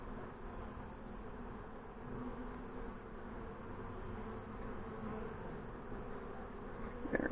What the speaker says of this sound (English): Thirsty, thirsty bees.